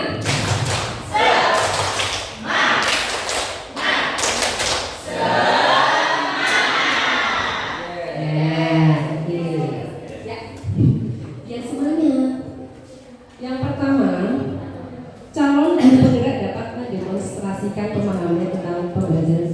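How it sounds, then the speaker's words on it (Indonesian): A workshop group of teachers performs a rhythmic patterned clapping routine, sharp in-time claps and thumps for several seconds, then voices chanting and talking with intermittent claps mixed in. "tepuk semangat."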